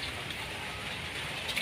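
Steady rain falls during a storm at a house with no electricity, a dense, constant hiss and patter that stays even throughout with no voices.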